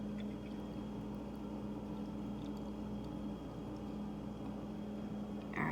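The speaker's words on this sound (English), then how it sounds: "I'm gonna add the cold water until this rises up to 1 cup." Cold water being poured into a measuring cup, a steady continuous rushing pour with a faint hum beneath, even in level throughout with no talking.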